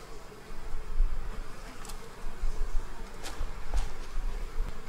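Honeybees humming around an opened hive during fall preparation, a dense continuous buzz close to the ear with individual bees droning past now and then.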